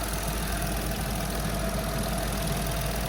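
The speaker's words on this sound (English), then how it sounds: "This is a wee 1 litre engine, 2019 with a metal housing." A 2019 VW Polo's 1-litre engine in a metal housing runs steadily at idle, a continuous even hum with a faint rhythmic tick, close by and alone.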